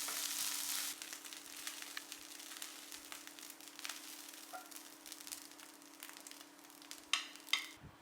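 Fried rice being stir-fried in a pan, a steady sizzle with stirring and scraping and a couple of sharper clanks near the end.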